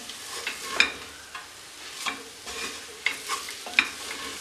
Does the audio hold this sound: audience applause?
no